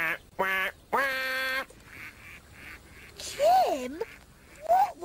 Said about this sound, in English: what was that funny quacking noise?